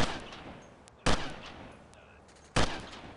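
Gunfire in the military shooter video game Delta Force: Task Force Dagger: two sharp, loud broadband shots about one and a half seconds apart, each with a short decaying tail, over a quiet background hiss.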